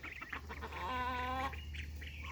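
Young ducks on a farm, near a muddy, permanently wet patch, give a close, drawn-out honking quack between softer chattering calls.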